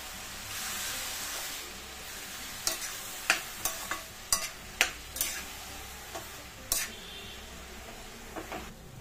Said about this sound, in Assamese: গোটেইখিনি ভালদৰে লৰাই দিছোঁ